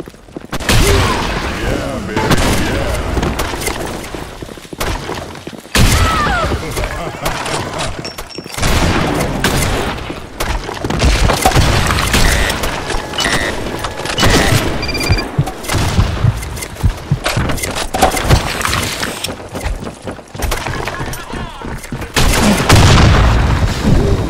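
Gunfire and grenade explosions in the shooter game Blackshot come in dense, loud bursts of rapid shots and heavy booms through a busy firefight, with a voice talking over parts of it.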